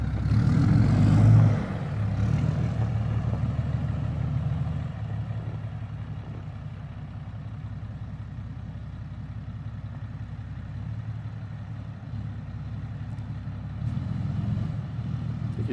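A Cummins diesel truck engine runs steadily in snow with a deep, continuous drone, swelling louder at the start and again near the end as the wheels spin.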